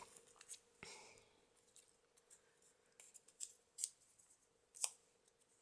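Small scissors trimming the edge of a handmade paper bookmark, quiet close snips and rustles in an irregular rhythm over a faint steady hum, with no talking.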